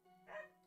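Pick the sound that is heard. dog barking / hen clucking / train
dog barking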